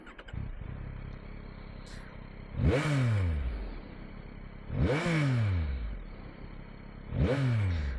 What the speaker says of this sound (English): Awesome 3-cylinder engine sound.